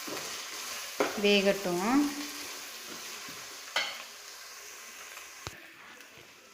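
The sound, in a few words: stirring egg fried rice in a pan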